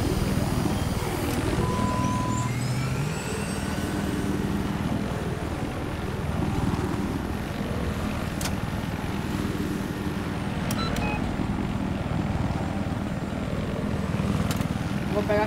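A jet airplane in Battlefield 4 roars with a steady, loud engine drone, while sharp bursts of combat noise cut through now and then.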